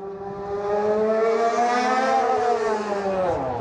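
A Mercedes W03 Formula One car runs a lap, its high-pitched engine whine sweeping steadily up and down through the gears, loud and continuous with no talk over it.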